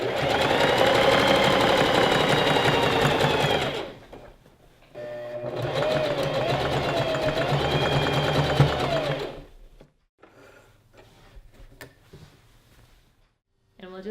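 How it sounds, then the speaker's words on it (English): A sewing machine zigzag stitches around the cut edges of a gathered maxi dress in two long, steady bursts, separated by a short pause, ending with a quieter stretch of handling noise; close and loud, with no talk. "I'm just going to cut down the edges and then zigzag stitch all the way around."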